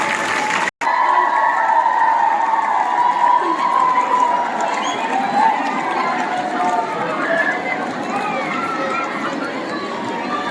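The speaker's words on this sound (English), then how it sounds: "let's give her a big round of applause" A school prize-distribution crowd applauds and cheers the tournament-winning team, a dense, steady wash of clapping with scattered voices and chatter mixed in throughout.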